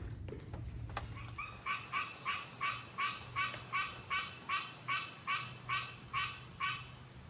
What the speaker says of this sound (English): Barking tree frogs